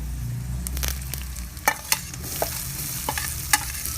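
Onion and green chili sauté in a hot pan, a continuous sizzle punctuated by sharp, irregular clacks of a spatula stirring against the pan, close and fairly loud.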